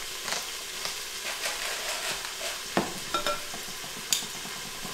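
Browned meat for Swiss steak being stirred in an Instant Pot, a close sizzle with a string of scraping spoon strokes and light clanks against the pot, no talking.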